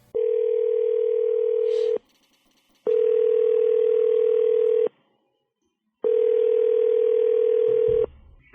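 A steady telephone ring tone sounds three times in long, even bursts separated by short silences, clear and close.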